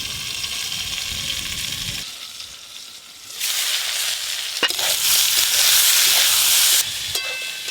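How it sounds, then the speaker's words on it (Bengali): Vegetables fry in mustard oil with turmeric, starting as a soft sizzle and swelling into a loud, steady hiss once they hit the pan or get pressed down, with stirring scrapes in between and no talking. "হলুদ গুঁড়ো, চাপা দিয়ে সবজিগুলো ভালো করে ভেজে নেব।"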